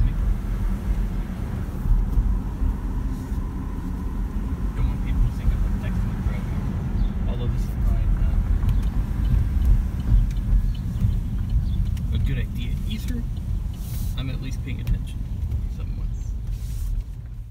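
Cars drive past on a road beside a historic roadside inn, a low rolling traffic rumble that swells and fades with wind buffeting the microphone, while a voice talks now and then.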